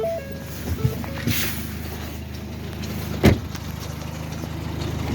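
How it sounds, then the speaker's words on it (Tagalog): A 2012 Ford C-Max Titanium diesel engine with a failed crankshaft bearing idles with a steady low drone, close by, with a few faint clicks and one brief louder knock partway through. "So, iparinig ko sa inyo yung tunog ng engine."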